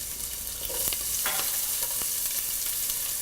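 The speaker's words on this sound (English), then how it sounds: "saute for a few seconds or until the onion turns transparent" Onion, green chilli, ginger and curry leaves sauté in hot oil in a pan, making a steady close sizzle and frying hiss with a few stirring scrapes, no voices.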